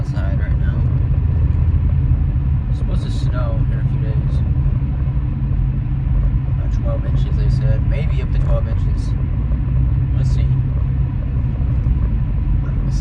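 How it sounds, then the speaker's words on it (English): A cold car engine idles while warming up on a 28-degree morning, a low steady rumble that continues throughout while a person talks over it. "I'm just kind of waiting for the car to heat up."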